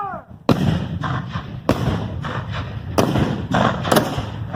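Booming artillery cannon fire at a Civil War re-enactment battle, several heavy blasts spaced about a second apart, each with a broad thudding crack and rumbling tail over steady outdoor background noise.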